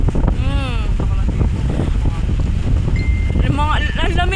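Strong wind in Alabang buffets the microphone with a constant roar while people talk over it.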